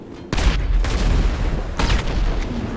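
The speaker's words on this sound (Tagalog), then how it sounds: "Fireworks." Fireworks in the GTA 5 video game burst in loud sharp booms, one at the start and another about a second and a half later, each followed by rumbling decay.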